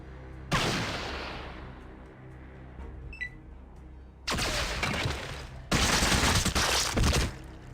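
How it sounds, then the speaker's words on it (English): Assault rifle fire in the Fallout 2 video game comes in three loud bursts of rapid shots, each a dense rattling volley. The volleys are separated by short quiet gaps. "that assault rifle's pretty good"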